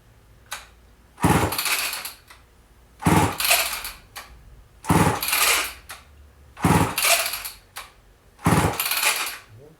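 Homelite XL12 chainsaw engine running at fast idle after sitting unused, heard as repeated loud bursts of engine noise about every two seconds separated by quieter gaps, close by with no speech.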